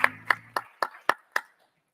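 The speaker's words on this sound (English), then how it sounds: "Deserving of applause." About six separate hand claps ring out at a panel discussion on corporate affirmative action. They come in a slow, evenly spaced series, each crisp and close, then fade into silence.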